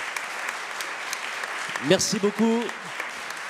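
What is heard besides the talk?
audience applause for guests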